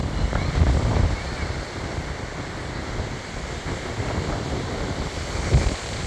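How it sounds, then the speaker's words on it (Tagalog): Strong wind buffets the microphone in a continuous loud roar by the shore where large boats sit, with surf rumbling underneath and a couple of heavier gusts. "Malakas ang hangin mga kasoyo."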